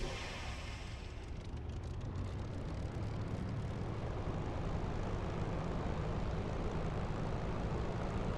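Steady, continuous drone of a light aircraft engine heard from inside the cabin in flight, a dense even roar with no pauses and no talking over it.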